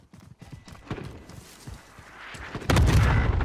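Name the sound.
cluster strike airstrike in video game Call of Duty Warzone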